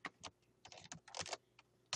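Quiet clicking of computer keyboard keys as a command is entered in a Minecraft command block, a quick irregular run of close, crisp taps with short pauses.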